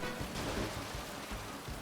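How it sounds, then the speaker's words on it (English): Heavy rain falls steadily outside an open window, a soft continuous hiss of pouring water with a faint low rumble, distant and quiet. "Dang, it's raining hard."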